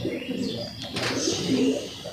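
Pigeons coo close by in soft, low, throaty rolling calls that repeat and overlap, with a brief thin chirp and faint background hum and no speech.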